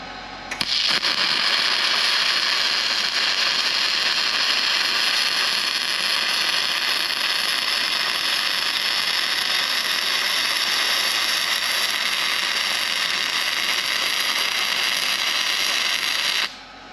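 Flux-cored arc welding with a Titanium Unlimited 200 welder, a loud, steady crackling buzz that starts abruptly and holds evenly for about sixteen seconds before cutting off.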